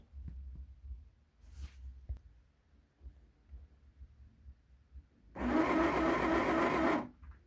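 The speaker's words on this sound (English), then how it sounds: "So here I'm just sewing the edges." A sewing machine stitches the edges of a satin bonnet, running in a short, loud burst of fast whirring stitches near the end after a quiet stretch of faint low thumps. No one speaks.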